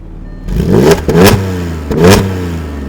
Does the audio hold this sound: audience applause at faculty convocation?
no